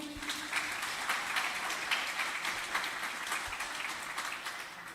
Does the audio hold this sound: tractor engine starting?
no